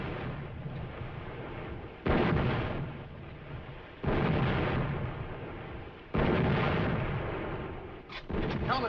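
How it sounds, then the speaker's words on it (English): Naval guns fire from a flagship in a 1942 war film: four heavy booms land about every two seconds, each a loud blast that rolls off into a long, rumbling decay. "Get a message through to the flagship to cease firing."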